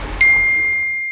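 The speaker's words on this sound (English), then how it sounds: "The online office received order alert." A single bright electronic ding rings out for an online order alert in a 2D animated auto parts commercial, struck once and then sustained in a clean ringing tone that slowly fades, loud and alone.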